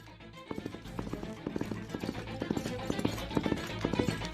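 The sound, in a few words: horse hooves clip-clopping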